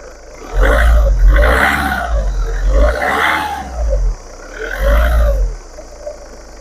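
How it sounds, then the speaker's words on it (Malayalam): A car engine revs up repeatedly in loud, close bursts to raise RPM during a battery charging test, with three or four rising surges separated by brief dips. "RPM കുറച്ച് റേസ് ചെയ്യാൻ പറയുന്നുണ്ട്."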